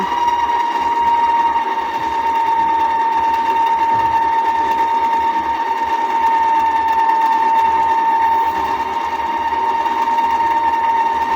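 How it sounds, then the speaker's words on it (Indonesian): An electric hand mixer runs on low speed through egg yolk and liquid cake batter, giving a steady, continuous motor whine that stays loud and close for the whole stretch with no talking. "ini udah siap kita mixer. Selama 1 menit, speed rendah aja ya."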